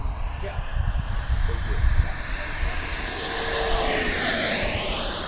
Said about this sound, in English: Very impressive, just a smooth, smooth jet. Another high-speed pass down the runway here.